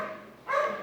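A single dog bark sounds at moderate distance, a short sharp burst after a brief quieter lead-in.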